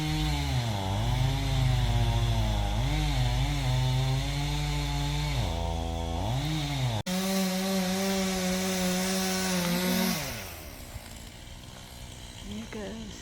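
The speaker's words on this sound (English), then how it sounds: "Okay, had to change out the chainsaw blade." A chainsaw with a freshly changed chain cuts wood on a homestead: a loud, close engine whine that rises and dips as the bar bites, then drops to a lower idle near the end.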